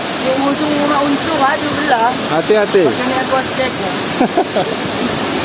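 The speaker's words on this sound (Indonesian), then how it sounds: "Gua Kalong, air terjun Kalong." Rushing water from the Kalong waterfall at Gua Kalong in Pagar Dewa, West Lampung, a steady broad roar heard up close, with a person speaking briefly over it.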